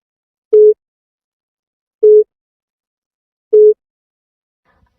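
Three short, evenly spaced telephone network beeps, loud and clean with silence between them, on a call that failed to connect.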